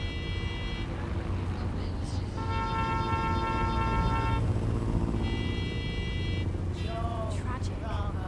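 Car horns blare in Watch Dogs Legion, two long sustained honks a few seconds apart over constant street traffic and background game noise, with a person speaking over it.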